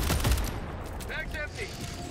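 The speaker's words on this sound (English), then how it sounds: "shooting a Hulk out with a Senator" A Senator revolver is fired in Helldivers 2 at a Hulk on a snowy planet. A cluster of sharp, loud shots comes at the start amid dense battle noise, with faint voices in the background.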